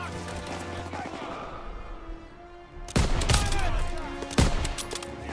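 Gunfire in the World War II shooter Call of Duty: WWII, campaign mission Operation Cobra: a few sharp loud shots and a burst of fire break out after a quieter rumbling stretch of game ambience.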